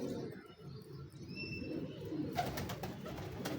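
Domestic pigeons, Lakha and Sialkoti breeds, coo softly in low, throaty rolls close by, with faint background noise and a brief higher bird chirp partway through.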